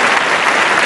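Studio audience applause on an Angolan TV talk show, a dense steady wash of clapping hands filling the whole moment at close, loud level without any voices.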